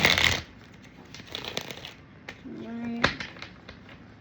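Tarot cards are shuffled close up in a crisp riffle burst, followed by quieter card handling and light taps, with a brief tonal hum in the middle.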